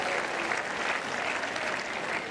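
A tennis crowd applauds steadily at a Nick Kyrgios versus Alexander Zverev match, a dense, even wash of clapping from many hands that holds at one level throughout with no voices rising above it.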